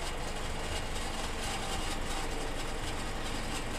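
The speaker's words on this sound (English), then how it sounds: "go ahead and start bringing down the hoist to right about the same pitch that we had it at" The hoist on a 2020 Isuzu NRR Switch-N-Go roll-off truck lowers with a steady, even hydraulic and engine hum, continuous and moderately distant, with no voices.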